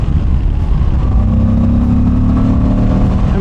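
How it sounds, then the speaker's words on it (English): A Moto Guzzi adventure motorcycle's transverse-mounted V-twin engine runs close and loud, a steady, throbbing low-pitched drone with no speech over it. "The transverse mounted V-twin."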